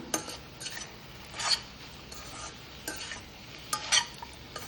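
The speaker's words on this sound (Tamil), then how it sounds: "இப்போ இது பச்சை வாசனை போகிற அளவுக்கு நம்ம வந்து நல்லா கலரி விட்டுக்கலாம்" Coconut, cumin, shallots and garlic stirred in a pan at home, with soft intermittent scrapes and light clinks of a utensil against the pan over a faint background sizzle, no talking.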